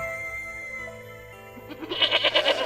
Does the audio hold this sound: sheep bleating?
yes